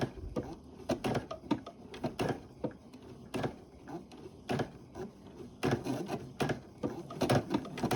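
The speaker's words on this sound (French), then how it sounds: "je peux avancer à la machine. Donc, je vais faire plusieurs points à droite et de temps en temps, un point à gauche" A sewing machine stitches a blind hem in fabric, several stitches to the right then one to the left, giving a near, steady run of rapid mechanical clicks and taps.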